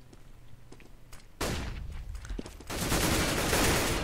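Gunfire from Counter-Strike on the de_dust map: a few scattered shots, then a sudden loud burst of rapid fire that builds into sustained heavy shooting near the end.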